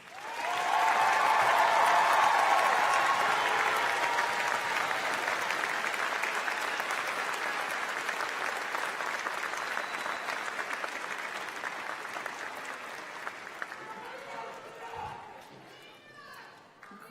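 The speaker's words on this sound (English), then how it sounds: "Audience, please join me in one more round of applause." An audience applauds at a college commencement ceremony for natural sciences graduates, loud and full at first, then gradually thinning over fifteen seconds into scattered claps and faint murmuring.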